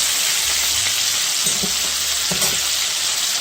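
Butter sizzles steadily in a hot frying pan with a constant close hiss and crackle, broken by a couple of soft scraping sounds as pieces are turned; no one speaks.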